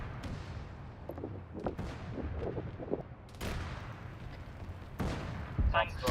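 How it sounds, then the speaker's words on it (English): Autocannon and small-arms gunfire in the military video game Arma 3, with scattered distant shots and bursts over a rumbling battlefield background, a few sharper nearer reports, and a voice briefly under the noise. "Got an autocannon somewhere to the east."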